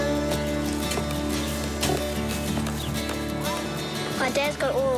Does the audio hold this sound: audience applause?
no